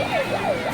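A siren wails at Puri beach, warning people away from the water at dusk, its pitch rising and falling in a steady repeating cycle at moderate distance, alone with no talk.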